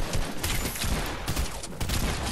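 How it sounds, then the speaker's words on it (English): Rapid gunfire from a Fortnite match, a steady clattering burst of shots filling the whole stretch at close range, with no talk over it. "I missed every single shot."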